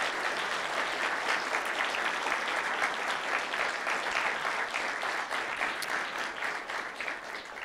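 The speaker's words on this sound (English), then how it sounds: "let's just give a big round of applause to everybody who's volunteered and who's on the board of Uncensored America" A large audience at a university debate event claps loudly and steadily, a dense wash of applause that holds for several seconds before easing slightly at the end.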